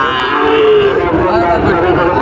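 Cattle at a busy livestock market near the Joypurhat border area, one loud close moo drawn out over a few seconds, with murmuring crowd noise behind it.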